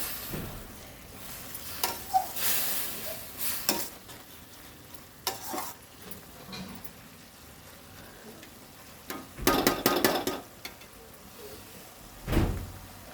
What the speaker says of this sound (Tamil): கீரையை நல்லா ஒரு தடவை வதக்கி விட்டுக்கலாம்